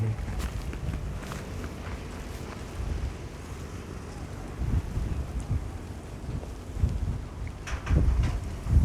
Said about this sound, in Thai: ลมพัดเย็นสบายเลย